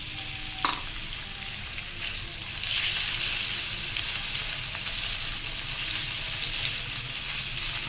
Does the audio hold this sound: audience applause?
no